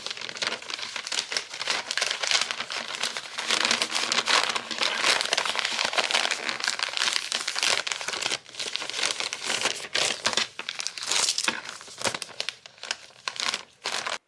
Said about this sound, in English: I'm going to put this all into a paper bag.